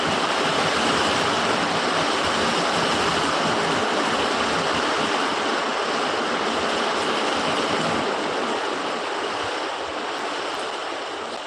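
Heavy rain driven by strong wind roars as a dense, steady hiss across the whole stretch, loud and unbroken, easing only slightly near the end, with no talk.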